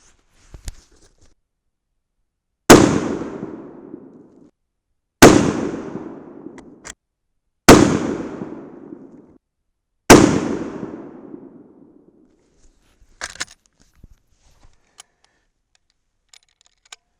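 Four loud .308 Winchester rifle shots fired with 110-grain Hornady Z-Max loads, evenly spaced about two and a half seconds apart, each a sharp crack with a decaying echo, followed by faint clicks and handling noises.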